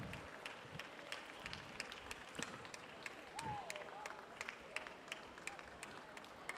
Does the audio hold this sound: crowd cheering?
yes